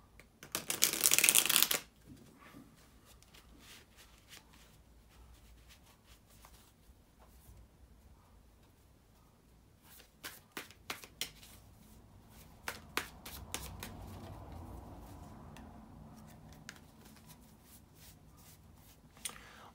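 A burst of tarot card shuffling at the start, then scattered soft taps and flicks of cards being handled in a quiet room.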